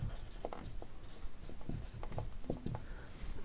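Pen or chalk writing by hand during a class 8 maths lesson on mensuration, close scratchy strokes coming in short irregular bursts, with no talking.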